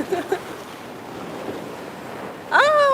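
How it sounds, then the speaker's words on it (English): Surf washing onto an ocean shore on a steamy day, a steady broadband wash throughout with faint voice-like murmurs early, then a loud whistling tonal sound bursts in near the end. "And the waves."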